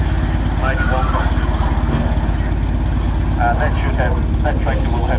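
A vintage tractor pulling a sled at a tractor pull at a machinery rally, its engine a loud steady low throb with rapid regular firing pulses, close by, as someone talks over it throughout.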